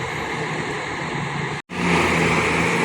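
A Sumatran NPM coach bus drives past at night during a bus convoy, a loud, steady engine roar that cuts out briefly midway and then returns slightly louder, with no talking.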